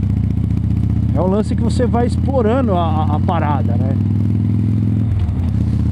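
A Harley-Davidson Dyna rides along a road, its engine a steady low rumble throughout while someone talks over it and the drone continues unbroken beneath his voice.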